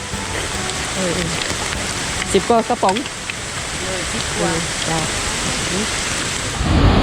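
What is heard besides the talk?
rain falling near a waterfall in southern Laos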